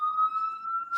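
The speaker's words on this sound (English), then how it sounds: "Apologize for the siren. It's New York." A siren on a New York street wails as a sustained high tone, fairly close and steady, with no voices.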